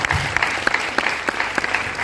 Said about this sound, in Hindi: तो एक बारी ताली बजा दो ऊपर वाले की,